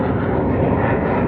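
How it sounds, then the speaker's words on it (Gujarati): A Suryakiran team jet flies over the Jamnagar air show on Republic Day, producing a loud, continuous engine roar that holds steady for the whole moment, with no talking. "fighter plane Ka"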